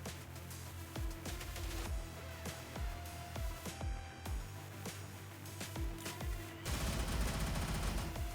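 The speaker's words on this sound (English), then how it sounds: "Oh, they're shooting me again." Dense gunfire in the video game Turbo Overkill, a steady rattle of rapid shots with sharp low thumps, growing louder and harsher near the end, with no talking.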